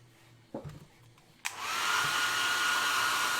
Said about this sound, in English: So dry that down, get the hairbrush, hair dryer out.